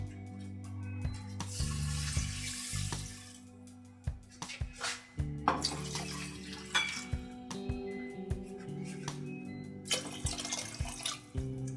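Clear water pours and splashes into a cooking pot for making porridge, a steady rushing stream with clinks of the pot, broken by a short pause and then more pouring.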